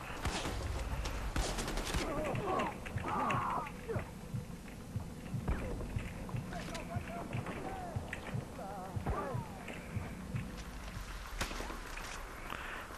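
Gunfire in the Far Cry 4 video game cracks in repeated bursts and scattered single shots, fairly faint and mixed with thuds, while a player talks over it.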